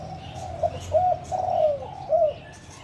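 Spotted dove, a female decoy bird kept in a cage, coos in a soft rhythmic series of three or four rounded notes, close and clear over a quiet outdoor background.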